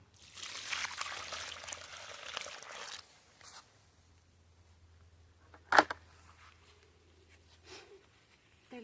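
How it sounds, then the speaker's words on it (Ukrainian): Water mixed with Kornevin rooting solution is poured for planting chrysanthemums and other plants. It makes a soft trickling splash for about three seconds, followed by quiet handling noises and a brief sharp click. "Це водичка з корневіна."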